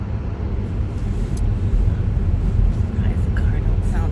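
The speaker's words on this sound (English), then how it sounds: "the car don't sound too bad just yet" A car engine idles in a low, steady rumble, close and continuous, with faint traffic noise around it.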